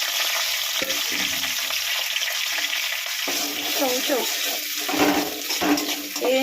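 Green chillies, curry leaves, garlic and onion fry in a pan with a steady broadband sizzle, close and fairly loud, with occasional stirring clatter and a voice talking faintly over it.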